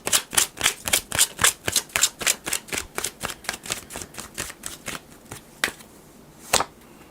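Tarot cards being shuffled during a reading, a rapid run of crisp riffling flicks close up that slows and thins into a few separate card snaps at the end.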